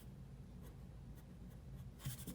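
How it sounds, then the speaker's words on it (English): Pencil shading strokes on paper while drawing an oak leaf, faint soft scratchy rubbing repeated in a quiet, close, steady rhythm with a slightly louder burst of strokes near the end. "I think I had an accidental pencil stroke there"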